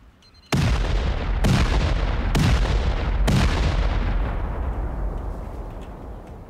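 C4 charges detonate against base foundations in a survival video game: four loud, heavy booms about a second apart, each sharp and near, then a long rumbling decay fading into quiet.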